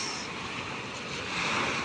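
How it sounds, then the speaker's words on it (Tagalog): Ocean waves wash steadily onto a beach in Guam, a continuous broad roar of surf with some wind noise, loud and close, with no voices. "Dito tayo guys sa tabing dagat."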